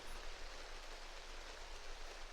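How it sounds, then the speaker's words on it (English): Soft, continuous rain for sleep falls as an even, hissing wash with no distinct drops or pauses. It is very faint and steady throughout. "the rain is going to continue to play for maybe 2 or 3 more hours"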